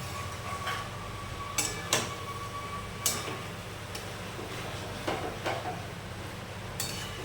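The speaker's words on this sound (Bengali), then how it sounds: "এবার আমরা মশলাটির সাথে সয়াবিন এবং আলুগুলো দিয়ে ভালো করে কষিয়ে নেব।" Soybean chunks and potatoes sautéing with spices in a pan for a cashew soybean curry, giving a low steady background with scattered clinks and scrapes of a utensil against the pan, no talk.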